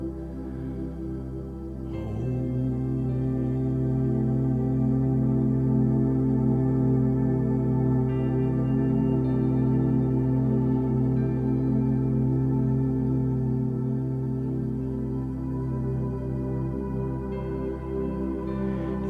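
A single voice holds a long, steady sung "oh" tone on one pitch, rich in overtones, sustained for many seconds with a short break early on.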